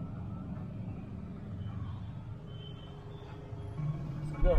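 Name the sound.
Bangalore road traffic jam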